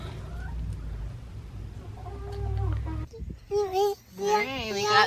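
Laying hens cluck in a homestead chicken coop, rising over a low rumble of background noise near the end while a person talks.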